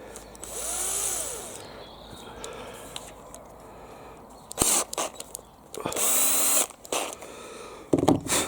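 A power drill bores two holes through metal for a fat ball feeder, the whine rising and falling in short bursts with pauses between, close and fairly loud.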